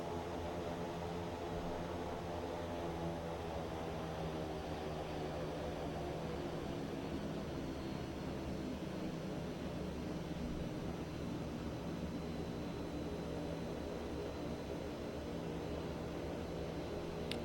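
Quest Kodiak single-engine turboprop in X-Plane 11 sits at low idle while taxiing, a steady unbroken drone with layered harmonic hum and airy hiss, constant in level throughout.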